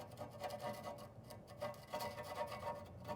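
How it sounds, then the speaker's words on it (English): Flathead screwdriver scraping loose, flaking paint and rust off a vehicle's metal undercarriage, a quiet, steady rasping rub with repeated strokes and no talk. "And I'll get all the loose paint and rust that's starting to flake. And I'll work those off and scrape those off first."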